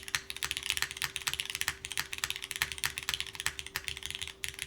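Rapid, steady keystrokes on a custom mechanical keyboard fitted with O-rings, close and alone, with clacks falling in an even typing rhythm and a faint constant hum underneath.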